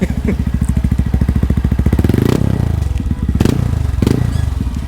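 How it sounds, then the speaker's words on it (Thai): A Honda MSX 125 converted into a CRF-style dirt bike with a 56 mm piston revs hard through its exhaust, making a loud, close, rapidly pulsing engine note that rises and falls in several blips. "นี่นะจะเสียงท่อนะครับทุกคน เดี๋ยวผมเบิ้ลให้ฟัง"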